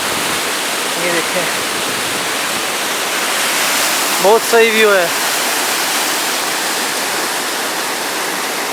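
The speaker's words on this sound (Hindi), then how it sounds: "वो नीचे है मेन वाटरफॉल" Main waterfall at Mcleodganj roaring loudly and steadily as a dense, continuous rush of water, with someone speaking briefly over it.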